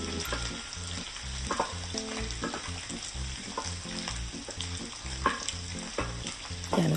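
Ground pork sizzles in hot oil as garlic and onion are sautéed with it for hotdog spaghetti. A steady, loud frying hiss carries on throughout, broken by stirring clatter, with no talking.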